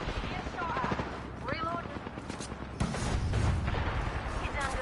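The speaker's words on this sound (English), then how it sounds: "There's so many gunshots going on." Gunfire in the video game Apex Legends: rapid bursts and sharp reports at close range, growing denser and louder toward the end, with speech mixed in.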